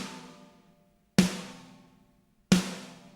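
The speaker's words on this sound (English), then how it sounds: "First up, we again got the Cream Drums, and the snare basically sounds like this." Two isolated snare drum hits from the Cream Drums free drum plugin, each a sharp crack with a decaying ring, spaced just over a second apart after a fading tail from a preceding hit.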